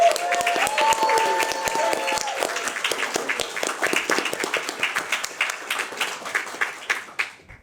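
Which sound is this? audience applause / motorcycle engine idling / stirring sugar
audience applause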